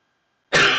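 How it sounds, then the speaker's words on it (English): A single sharp cough bursts out abruptly after a moment of silence, loud and close. "I don't know where this cough came from."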